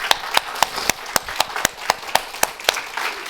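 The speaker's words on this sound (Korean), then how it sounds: "우리 하나님께 영광의 박수 부탁드립니다." Congregation applauding during a church service, with sharp claps falling in a steady, evenly spaced rhythm over a dense wash of clapping, fairly close and continuous throughout.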